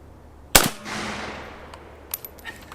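A single loud 7.62x39 shot from a Palmetto State Armory GF3 AK rifle at an outdoor range, a sharp crack with a long fading tail and a few faint impacts or clinks afterward.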